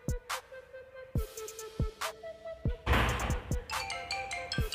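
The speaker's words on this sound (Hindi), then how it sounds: "मेरे फ़ोन में रिंगटोन बज रही है।" A phone ringtone plays a repeating electronic melody of bright tones with sharp plucked attacks, fairly close and clear, with no talking.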